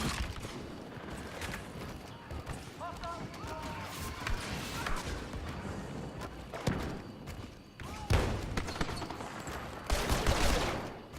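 Heavy guns fire repeatedly in Star Wars Battlefront 2 multiplayer, rapid bursts and thuds mixed with running footsteps and battle effects, while a voice talks over the gameplay.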